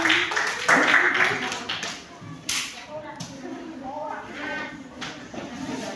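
Children in a classroom clap their hands together in a quick burst of overlapping claps, then voices take over and talk and chatter continue under a few scattered claps.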